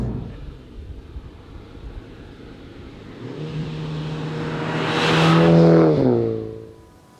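A 306 hp 2020 Mini John Cooper Works GP runs a slalom at the Nuerburgring, its engine droning and then revving up through rising and falling tones to a loud, close peak, with wind rushing over the microphone.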